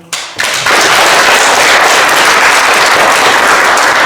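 A theater audience applauds students at a speech tournament awards evening, steady dense clapping that swells in after a brief pause and holds loud and unbroken.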